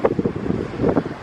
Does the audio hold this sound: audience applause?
no